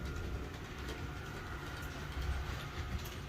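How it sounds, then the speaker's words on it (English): Model trains running on a layout at the Hub City Railroad Museum, a faint continuous rolling rumble with light clickety-clack from the small cars, steady throughout. "Look at these trains here, Chance"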